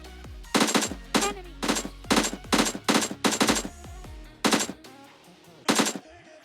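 AKM assault rifle fire in PUBG, heard as several loud, close bursts of rapid automatic shots separated by short pauses, with a final burst near the end and no talking.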